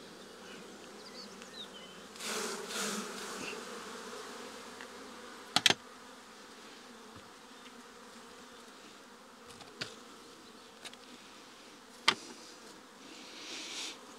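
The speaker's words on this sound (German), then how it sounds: "So viele Bienen." Honeybees buzz around an open beehive during a swarm inspection, a dense steady hum throughout with a few sharp clicks and knocks from handling the hive.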